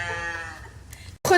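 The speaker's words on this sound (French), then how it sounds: "Regarde la vache." A Swiss cow lets out a single drawn-out moo at close range, which fades before a brief burst of other noise.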